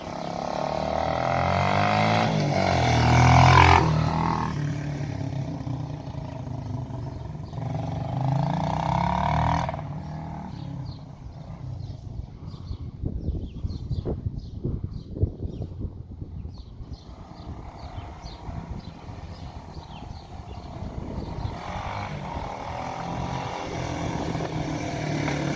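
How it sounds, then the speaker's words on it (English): A Kawasaki KE 100 motorcycle engine runs close by, a steady rough roar that later turns into uneven popping and revving bursts. "we decided to get some of the other bikes out, give them a quick run. It's a KE 100 that we done earlier on this year."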